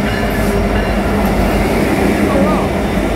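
A heavy Norfolk Southern freight train hauled by two EMD locomotives rumbles through Greenville station close by without stopping, steady and loud with a continuous low roar and faint clatter of wheels throughout.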